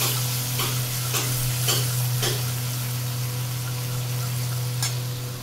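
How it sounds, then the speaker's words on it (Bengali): Ginger and garlic paste fries in a pan for prawn curry as a spoon scrapes through it in a steady run of strokes, then one more later, over a constant sizzle and hum. "দেবো আদা বাটা, আর দেবো রসুন বাটা দিয়ে এবারে নাড়তে থাকবো"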